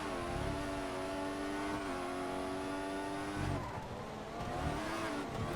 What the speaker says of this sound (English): I'm pushing the throttle so hard.